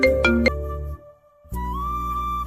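A mobile phone ringtone sounds loud and near, a few quick melodic tones that stop for a moment and then resume with a sustained musical passage, with no talking.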